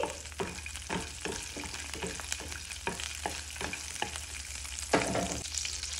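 Dry fruits and coconut pieces fry in ghee for a payasam, a continuous crackling sizzle punctuated by regular scraping stirs of a spoon in the pan, close and with no speech.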